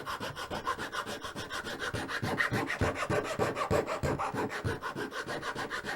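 A hand file rasps steadily across a piece of rosewood during guitar building, with dense back-and-forth strokes in an even rhythm, close and fairly loud with no talking.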